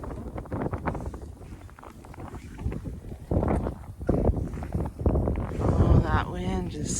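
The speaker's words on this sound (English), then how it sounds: "Wind is so cold." Cold wind roars across open ground during a winter blizzard with whiteout conditions, a steady broadband rush with gusty swells. A voice speaks over it and there are scattered bumps and rustles nearby.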